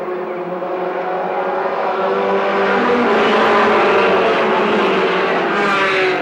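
Race cars in a stock-car style event circle a racetrack, a loud, continuous multi-engine drone that swells steadily through the pass with no voices over it.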